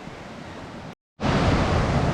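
The first fall of Morialta waterfall after a week of rain gives a steady, broad rush of water, cut by a short silence midway before returning louder and fuller.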